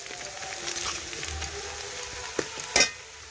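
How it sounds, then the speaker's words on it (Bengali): Onions with red chilli powder being stirred and fried in a pan, giving a soft steady sizzle with light scraping stirs and a couple of louder clinks near the end. "একটু পেঁয়াজের সাথে নাড়াচাড়া করে মিশিয়ে নিচ্ছি"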